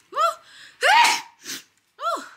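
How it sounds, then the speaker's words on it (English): A person gasps in a few sharp breaths, then lets out a single close, loud sneeze, followed by a short sniff. "I gotta sneeze."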